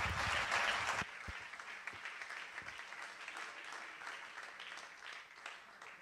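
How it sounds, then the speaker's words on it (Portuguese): Audience applause for a speaker at a Portuguese arts and letters panel event, a loud burst of clapping in the first second that trails into scattered, fading claps and light crowd murmur. "Uma salva de palmas para o inconfundível Newton."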